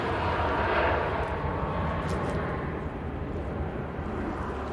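Airliner taxiing at Manchester Airport, bound for Malta: a steady, loud, broadband engine roar that holds without a break, with no voices.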